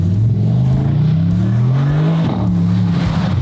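Bentley car with just under 600 horsepower revs its engine in a loud, close, rising and falling drone, the pitch climbing steadily and then dipping briefly before climbing again, with no speech over it.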